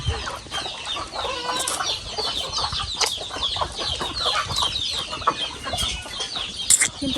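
Native chickens cluck repeatedly nearby on a rural farm, with occasional sharper squawks and some wing flapping, no talking.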